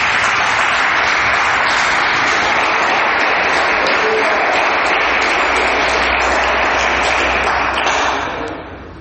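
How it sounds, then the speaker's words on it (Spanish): Loud, sustained applause from a large church congregation, dense clapping filling the space for several seconds before tapering off at the end. "Denle un aplauso a Jesucristo."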